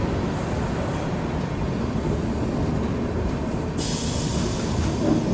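A Garib Rath express train pulls out of Karwi (Chitrakoot Dham) railway station with a steady, close, continuous rumble of wheels and carriages. No voices are heard.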